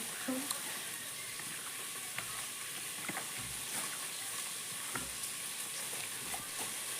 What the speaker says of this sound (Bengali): চিকেনটা এরকম কিছুটা ঝেড়ে ঝেড়ে আমি তেলে ফ্রাই করে নেব